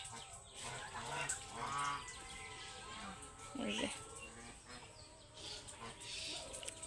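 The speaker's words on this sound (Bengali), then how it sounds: "কত ধরনের হাঁস আছে দেখেন সি হাঁস তারপরে রাজা হাঁস মুরগি অনেকগুলো সব ধরনের হাঁস মুরগি" Geese honk and ducks, including king ducks, call in a mixed poultry flock, faint and intermittent, with a voice talking over the birds.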